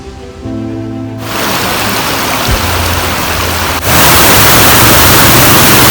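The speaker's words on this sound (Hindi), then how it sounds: "अभी भी बारिश।" Loud, dense hiss of heavy rain in the Allai Valley, northern Pakistan, fills the clip, growing louder partway through as if moving closer to the downpour.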